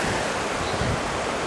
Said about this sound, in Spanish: Ese es el río Colca.